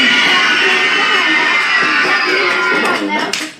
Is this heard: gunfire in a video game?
no